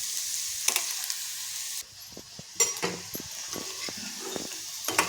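Chopped onion stir-fried in a pan for a sweet bitter gourd dish, a constant bright sizzle with a brief dip, then clattering stirs and spatula scrapes in quick irregular bursts, close by, no talking.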